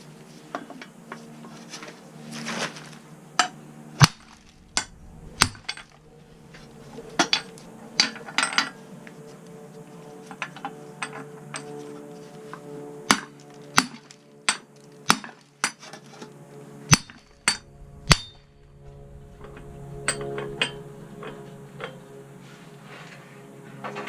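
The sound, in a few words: big hammer beating wheel hub out of bearing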